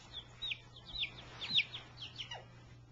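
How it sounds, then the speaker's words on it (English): Baby chicks peep in quick, high, thin chirps that come in short irregular bursts, close but soft, over a faint steady background hum. "It's chickens! Baby, baby chickies."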